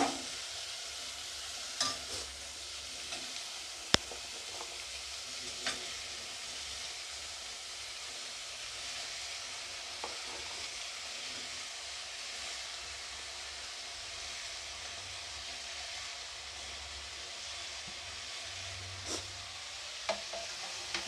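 Chopped bottle gourd frying in a pan, a faint, even hiss of sizzling with a few sharp clicks of the spoon against the pan, steady and quiet for the whole stretch, no talking.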